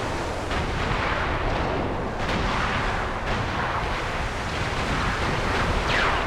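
Heavy rumbling explosions from torpedo bombs in the strategy game Supreme Commander, a dense, continuous roar of blasts and booming impacts with no talking.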